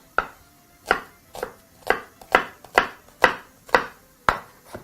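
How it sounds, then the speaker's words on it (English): A knife chops through a white onion on a cutting board with about nine crisp, evenly spaced strokes, close and clear, with no talking. "always make sure to core your onions before chopping"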